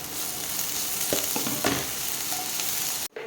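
Garlic fries in a pan with a steady, close sizzle, broken by a few sharp clicks and scrapes of stirring.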